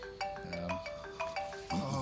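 A mobile phone ringtone rings during an interview, a bright melodic tone pattern repeating in short bursts, clear and fairly close.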